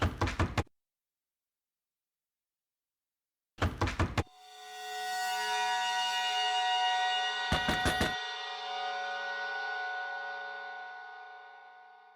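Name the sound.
knocking on a door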